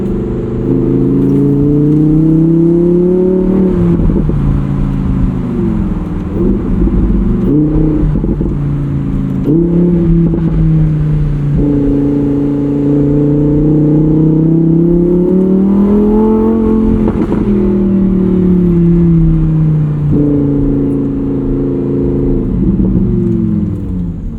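V10 engine of a 2021 Lamborghini Huracán EVO Spyder under way, a loud continuous drone that swells and sags in pitch as the car accelerates and eases off, with no talking over it.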